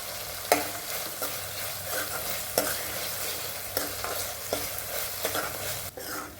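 Chopped dry onion cooks in a pan, giving a steady soft sizzle broken by repeated sharp scrapes and knocks of a spoon stirring, with no voices.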